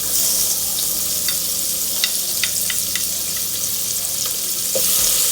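Onion and garlic fry in a little oil as the base for a vegetarian pasta cream sauce, giving a steady close sizzle with scattered crackles and pops and no talking.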